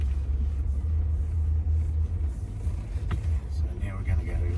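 A Land Rover Defender 110 creeps downhill off-road at walking pace under hill descent control. A low engine rumble and drivetrain drone carry on throughout, with people talking inside the vehicle.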